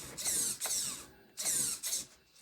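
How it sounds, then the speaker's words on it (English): A damaged spur gear on a large RC monster truck grinds and ratchets in two harsh, buzzing bursts with short pauses, close and mechanical, with no talking. "That spur gear is obviously not happy"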